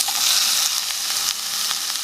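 Onions and tomatoes sauté in a pan for a South Indian spicy potato curry, giving a steady, close hiss of frying that holds through with light crackles and a few soft scrapes, with no talking.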